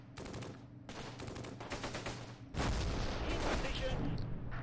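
Artillery and gunfire in the World War II strategy game Close Combat, Gateway to Caen campaign, a steady crackle of rapid shots that swells into heavier, louder blasts over a constant low rumble.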